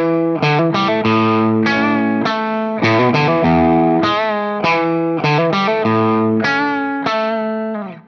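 Distorted electric guitar plays a classic-rock riff, a run of punchy repeated chord stabs and short phrases in a steady rhythm, loud and close with no talking.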